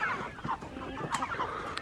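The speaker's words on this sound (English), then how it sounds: "some of them are roosters" Chickens and roosters cluck together in a farm pen, a continuous overlapping chatter of soft clucks and squawks close by.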